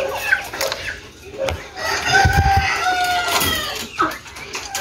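Caged pheasants cluck and call on a farm, with a few short calls and bursts of clucking close by, while someone talks over them.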